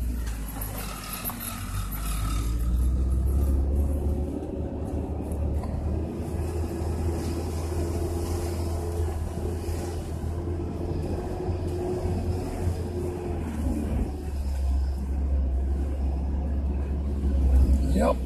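A Coot off-road vehicle rolls across ice with a continuous low engine rumble and drivetrain drone close by, while people talk over it throughout.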